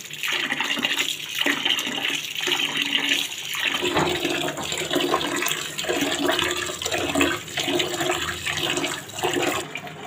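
Water runs and splashes continuously nearby, surging in uneven pulses as food is rinsed.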